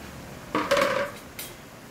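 A utensil stirs squash and string beans in a cooking pot of ginataang kalabasa at sitaw, making a short burst of metallic scraping and clinking followed by one brief clink, close and fairly quiet.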